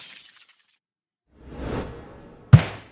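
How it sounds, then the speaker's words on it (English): A brief whoosh sweeps past, then a sharp crash as a football smashes through a glass window, with a short shattering tail. "Mike heard a loud crash as the ball smashed through the neighbor's window, sending glass flying"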